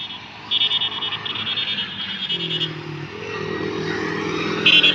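A tractor backs up on a road while pulling a large trolley loaded with about 500 maunds of cotton. Its engine drones steadily and close by, with a few brief higher buzzing tones on top.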